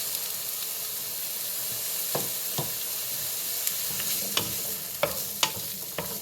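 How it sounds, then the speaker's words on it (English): Onions frying in a little oil in a pan, giving a steady close sizzle, punctuated by several sharp knocks and scrapes of stirring that grow more frequent toward the end. "we're going to fry our onions"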